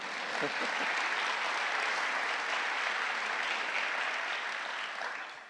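Audience clapping at a State of the City address, a broad steady roar of applause from a large hall, sustained and even throughout, moderately distant.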